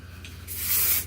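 A short burst of hairspray hisses onto hair, rising for about half a second close by, with no talking.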